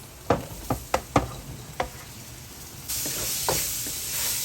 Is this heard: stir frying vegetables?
yes